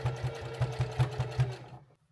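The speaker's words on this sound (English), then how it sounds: "we're going to sew that 1/8 inch seam right at the crease between the fabric and the sewing machine" A sewing machine stitches a narrow seam on fabric while making a wallet, a steady, fast series of quiet mechanical thumps that stops abruptly near the end.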